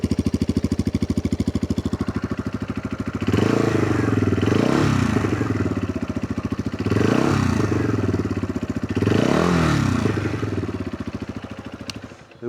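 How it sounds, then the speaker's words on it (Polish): A QJ SRT 125 DX motorcycle engine idles close by with a steady, bassy, fast-ticking rhythm, swelling with three brief revs before it winds down and stops near the end. "Teraz Wam jeszcze pokażę, jak ten motorek ładnie pracuje."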